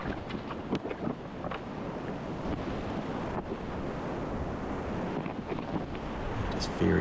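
Whitewater rapid on a river, a steady broadband roar of rushing water heard close up from a kayak, with wind buffeting the microphone.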